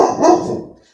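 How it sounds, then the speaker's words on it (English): A dog gives a single loud, close bark that trails off into silence within a second. "There's a dog barking."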